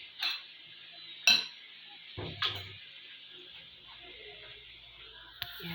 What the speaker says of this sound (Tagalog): kuha tayo ng kanin